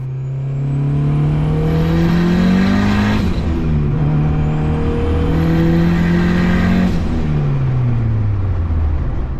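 Turbocharged Honda Civic accelerating hard through the gears, a loud, close engine note climbing steeply in pitch twice, each rise broken by a brief dip at the shift before building again, with no talk.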